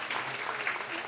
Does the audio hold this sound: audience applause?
yes